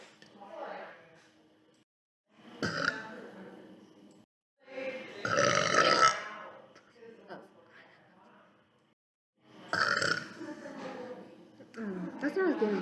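A person lets out a series of loud, drawn-out burps during a burping challenge. Each belch is separated by quiet pauses and some brief chatter.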